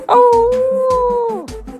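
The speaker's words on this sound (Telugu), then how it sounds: "కుక్క" A single drawn-out dog howl, loud and close, holding a steady pitch before sliding down and fading out.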